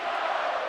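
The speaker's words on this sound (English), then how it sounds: "TOL-EDO chants coming down from the crowd here at Savage Arena" A home basketball crowd at Savage Arena in Toledo chants in unison during a college men's game, a loud, dense wash of voices filling the whole brief moment.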